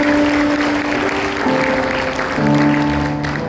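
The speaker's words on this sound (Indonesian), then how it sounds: "Kita berikan tepuk tangan." Congregation clapping at a Christmas church service, steady applause under sustained keyboard or organ tones that shift chords partway through.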